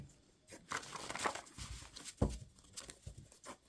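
Handmade love-themed cards are shuffled by hand, giving soft crisp riffling and papery slides with a few louder slaps, close and quiet.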